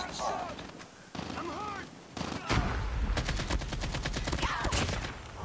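Gunfire in Call of Duty Mobile with an AK-47: rapid automatic bursts hammer in loudly across the second half, after a stretch where a voice talks.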